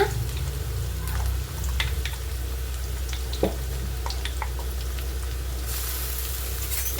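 Ginger garlic paste frying with onions in a pan for chicken fry, a steady close sizzle that runs throughout with a few brief scraping stirs and no talking.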